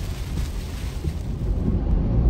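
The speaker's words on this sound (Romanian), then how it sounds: "e un vânt" Strong wind roaring and buffeting during a snowstorm in Latvia, a dense broadband rumble that rises slightly toward the end, steady and close with no talk over it.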